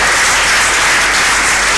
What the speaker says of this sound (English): A round of applause for her once again, please.